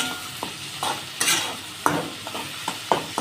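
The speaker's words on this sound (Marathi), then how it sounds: "2 टमाटर कापले होते, ते पण टाकून घेऊ त्याच्यात. ते पण भाजून घेऊ चांगले." Chopped chillies and two tomatoes fry in oil in a pan for egg bhurji, a steady close sizzle broken by several sharp scrapes and clinks of a spoon stirring against the pan.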